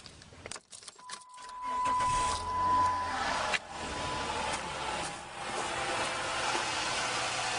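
A 2006 Chrysler 300 with an alternator noise problem is started: keys rattle, the starter cranks briefly, and the engine catches and settles into a steady, close idle hum.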